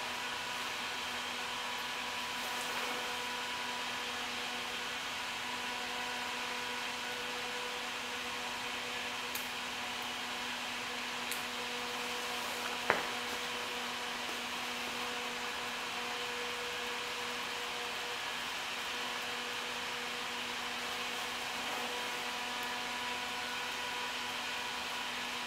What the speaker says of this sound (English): That's aluminum heating up.